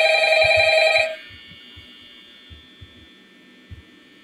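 A phone rings loudly in the video game Five Nights at Bidens, a bright electronic tone lasting about a second before cutting off, leaving faint hum and a few soft low thumps.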